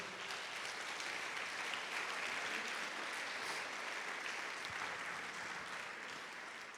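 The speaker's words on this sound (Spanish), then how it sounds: "Puedes dar un aplauso a Dios por eso." Congregation applauding during a Spanish-language church sermon on fasting, a broad, even wash of many hands clapping in a large room, sustained and moderately distant throughout.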